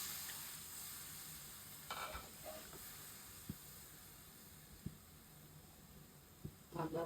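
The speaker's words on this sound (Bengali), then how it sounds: "এখন আমি পানি দিয়ে দিলাম মশলা কষানোর জন্য।" Spice masala with onion and oil sizzles in a pan after water is added, cooking for a rohu fish and eggplant curry; a steady close hiss with a few sharp clicks of stirring.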